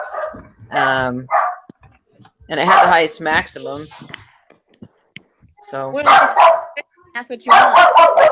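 A dog barks in the background during a group meeting, its sound mixed under several people talking through most of the clip.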